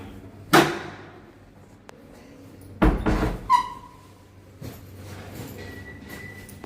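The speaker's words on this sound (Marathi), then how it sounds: "मी दरवाजा लावते." A house door is shut: two sharp wooden knocks and thuds a couple of seconds apart, the second with a brief rattle, then quiet room tone.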